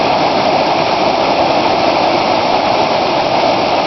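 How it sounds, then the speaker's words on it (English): A Highland stream in Gleann Dubh Lighe rushes and churns steadily, a loud, dense, unbroken wash of flowing water with no voices. "the whole stream is just spectacular"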